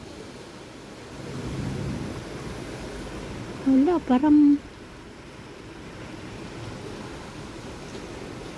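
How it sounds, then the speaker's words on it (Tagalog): Heavy rain pours steadily during a flood outside a hotel entrance, making a constant broad wash of noise throughout, with a person briefly speaking over it midway. "Lakas ng ulan eh."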